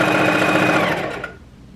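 A sewing machine stitches fabric for a bubble skirt made from an old dress, running as a steady loud whirring buzz for about a second before slowing and stopping.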